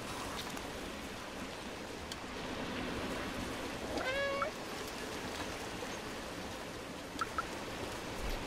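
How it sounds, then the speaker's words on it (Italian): A cat in the game Stray gives a single short meow over a faint, steady rain-like hiss, with soft clicks following later. "Oh mio Dio, questo gatto miagola, incredibile."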